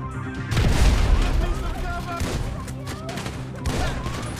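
A grenade blast and a rattle of gunfire fill a GTA 5 combat scene, with loud booms and rapid shots. A shouted voice cuts in over the noise.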